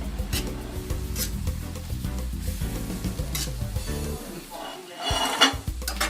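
Stir-fried vegetables tossed and scraped around a hot pan, with a steady sizzle and repeated clattering stirs that pause briefly near the end before picking up again.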